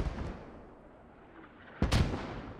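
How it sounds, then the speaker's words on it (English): Mortar fire in the WWII game Post Scriptum, a fading rumble followed by a sudden sharp blast and its rolling echo at moderate distance. "You can hear those German mortars still raining down. I can hear Allied mortars also firing back."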